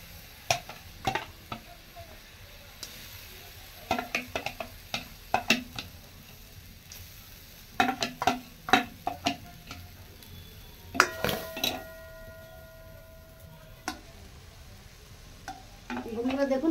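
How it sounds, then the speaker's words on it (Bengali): Palm fruit pulp cooks in a wok on a stove, sizzling and frying softly while a spoon repeatedly stirs and scrapes, with sharp metallic clinks against the pan at irregular intervals. "আবার কড়াই বসিয়ে দিয়েছি উনুনে, এখন তালমাড়িটা দিয়ে দিচ্ছি।"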